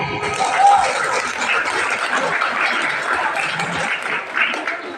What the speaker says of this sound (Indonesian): Anak kelas 6A, 6B, mana tepuk tangannya?